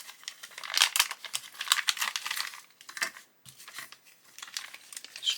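Small plastic parts bag for a 1:6 scale Mustang GT500 model kit being torn open, with close crinkling and rustling in uneven bursts and a short pause midway, no voices.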